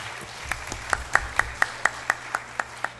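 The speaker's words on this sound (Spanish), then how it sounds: "También para él fuertes aplausos." Light applause at an education seminar panel in Lima, heard as a sparse series of distinct, evenly spaced claps, fairly faint against a quiet room.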